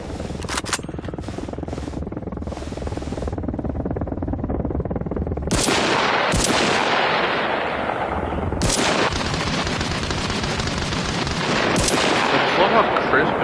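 Loud, crisp video game gunfire sounds close by: rapid machine-gun bursts with several sharp, heavy shots standing out, over continuous background noise.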